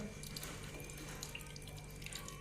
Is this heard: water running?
yes